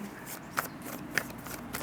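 A deck of tarot cards is shuffled by hand in a quick, soft riffling burst, close and fairly quiet, with two sharper snaps along the way.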